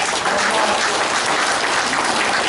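Applause from the audience at a hometown association's annual general meeting and chairman inauguration ceremony, a dense, steady wash of many hands clapping at once, loud and sustained throughout with no voices over it.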